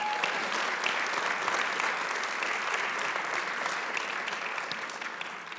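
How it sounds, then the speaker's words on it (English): Sustained applause from a conference audience welcoming a panel at the Brookings Doha Center in Qatar, dense steady clapping throughout that tapers slightly near the end, with no talk over it. "Ladies and gentlemen, let's have an applause for your panel before we get going."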